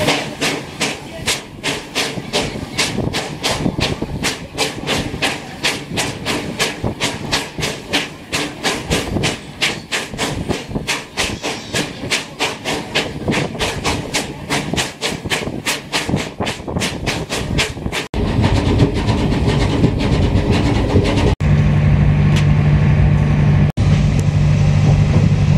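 Fairy Queen steam locomotive hauling two coaches as it departs, with rapid, regular chuffing beats and clanking over loud rumbling, then a broader steady roar and hiss.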